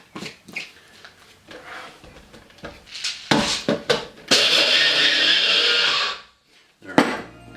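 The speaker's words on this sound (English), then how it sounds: "we're going to mix these up first just to kind of break them down" A kitchen blender starts in short pulses and then runs hard for about two seconds, grinding toasted pumpkin seeds for a dip, loud and close, with clatter of handling around it.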